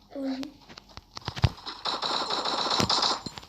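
Rapid gunfire from the mobile video game Free Fire crackles in quick bursts, moderately loud, while a young player talks excitedly over the shots.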